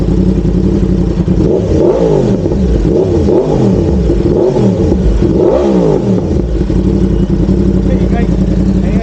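Loud motorcycle engine revving up and down several times in rising and falling surges, close by, with a steady rumbling idle underneath.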